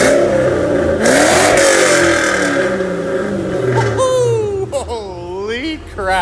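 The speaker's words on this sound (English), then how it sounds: "maybe the owner will let us give a little rev out the back there just for a second" A Saleen Mustang's engine revs hard up close, loud and rising, then drops into quicker, choppier blips of throttle toward the end.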